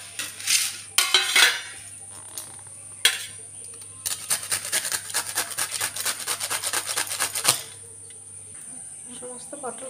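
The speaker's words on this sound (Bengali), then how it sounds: "গ্রেট করে নেব" Pointed gourd (potol) being grated by hand, a fast run of close, scratchy rasping strokes in a steady rhythm with a few separate scrapes before it, over a low constant hum.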